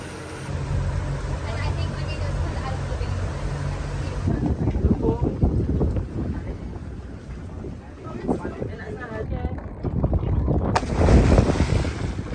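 A boat motors across open water between islands of Karimunjawa, Indonesia, a steady rumble mixed with wind buffeting the microphone and splashing, with occasional voices faintly in the background.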